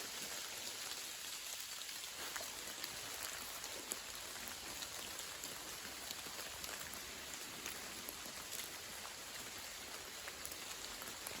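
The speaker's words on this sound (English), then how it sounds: "it's not raining, but I can hear it raining." Soft, scattered drips and patters of water falling from leaves, faint and continuous over a quiet outdoor background with no talking.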